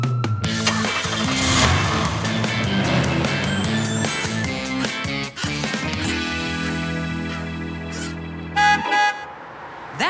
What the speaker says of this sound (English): That sounds like Tony's taxi.